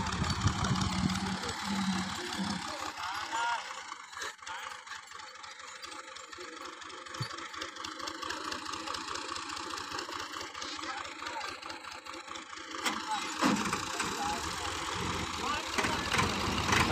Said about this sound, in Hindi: अब इस ट्रैक्टर को पीछे से लेके आ रहे हैं, एक ट्रैक्टर आगे और एक पीछे।